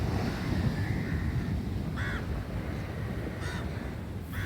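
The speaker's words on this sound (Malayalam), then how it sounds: "അകലെ നിന്ന് തന്നെ കാക്കകൾ വട്ടം കൂട്ടി ഇരിക്കുന്നത് കണ്ടു." Crows gathered outdoors around a dead turtle give three or four short, faraway caws over a constant rumble of wind.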